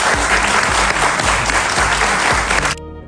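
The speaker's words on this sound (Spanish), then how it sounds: "un aplauso para Brian" Loud, dense applause from a studio audience on a Spanish-language television show, steady and close for nearly three seconds before cutting off abruptly.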